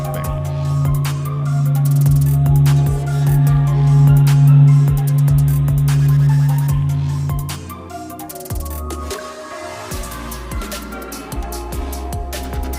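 Solar vibrations recorded by the SOHO observatory, turned into sound: a dense, continuous drone with a strong low sustained tone that fades after several seconds, leaving a shifting, textured hum with scattered higher tones.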